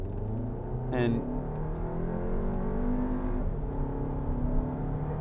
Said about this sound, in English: I'm going to do a rolling start here, and we're doing about 10 miles an hour, and I'll pin it